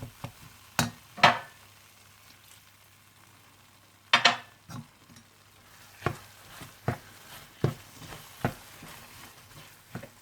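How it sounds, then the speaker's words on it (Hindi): Gram lentil halwa with kewra water is roasted over low heat, heard as a series of separate spoon scrapes and knocks against the pan at irregular intervals over a faint background, with no talking. "और साथ ही आप इसमें केवड़ा वाटर डाल दें और हल्की आंच पर भून लें।"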